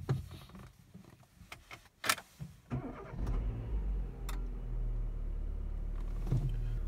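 Renault Megane engine starting after a few clicks and knocks, then idling in a steady low hum, close by with no talk, following an oil leak repair.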